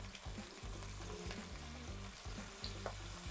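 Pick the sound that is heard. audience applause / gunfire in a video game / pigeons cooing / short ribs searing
short ribs searing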